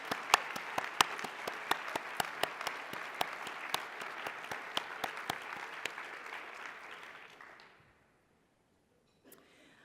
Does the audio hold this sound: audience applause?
yes